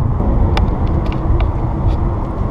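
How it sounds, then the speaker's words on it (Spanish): Car traffic on a busy road on the way to Washington: a steady low rumble of passing vehicles with a few faint higher clicks, loud and continuous, with no one talking. "Qué impresionante lo del tráfico aquí en el este"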